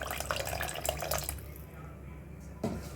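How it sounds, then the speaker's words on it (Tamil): Water pours steadily into a pot for a second or so, then the flow tapers off into quiet, with a brief clink near the end. "தேவையான அளவு நம்ம தண்ணி சேர்த்துக்கலாம்"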